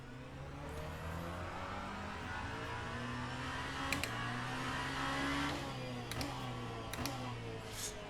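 A Genesis hypercar in the Le Mans Ultimate racing game drones with a steady, rising engine note, gear changes marked by brief sharp spikes, loud and continuous with no talk over it.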